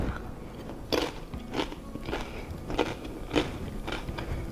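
Crunchy pickle potato salad is bitten and chewed up close, with several distinct crisp crunches spaced about half a second apart over a soft background, and no talking.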